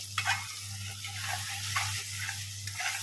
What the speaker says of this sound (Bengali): মশলা কষানো চলছে এখন।